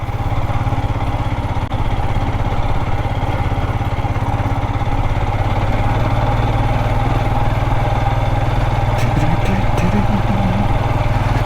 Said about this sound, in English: Chug, chug, chug, second gear chug.